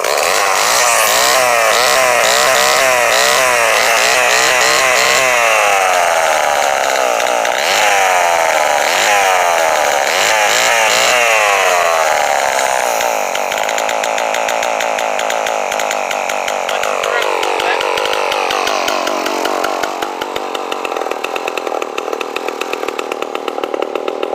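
A Homelite XL12 chainsaw with its carburetor slightly out of adjustment runs loud and close, its engine warbling and revving unevenly, then settling into a rougher idle.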